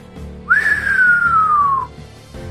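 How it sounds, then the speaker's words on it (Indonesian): A single long, loud whistle that jumps up sharply and then glides slowly downward for over a second, heard alone. "suara siulan itu"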